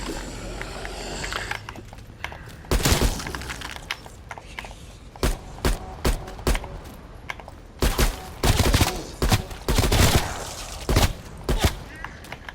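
Gunfire from shooting zombies in Call of Duty Cold War zombies mode rings out as bursts of sharp, loud shots in quick clusters, with a low background hum between volleys.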